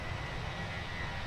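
IAE engines on a Fenix A321 in a flight simulator, heard as a steady broadband roar with a low rumble, constant and close, with no talk over it.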